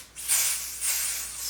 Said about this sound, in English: spray it in front of my hairline